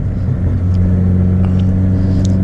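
A loud idling big-turbo Honda Civic FK7 Sport hatchback, tuned for exhaust pops on deceleration, rumbles steadily, with a few faint crackles and pops from the exhaust scattered across the clip.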